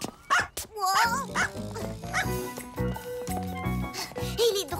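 A cartoon dog from the Caillou cartoon barks and yips in short bursts over lively background music, with a few whimpering, rising tones mixed in.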